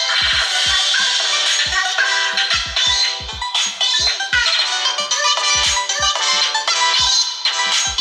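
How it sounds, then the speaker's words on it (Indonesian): Music plays as a ringtone through the small speaker of an Aoro A6 budget phone, a bright, rhythmic melody with regular thumping beats that holds at a steady level with no voice. "untuk keluaran suara speaker di handphone ini ternyata kurang begitu kenceng, dan kualitas suaranya juga biasa aja nih"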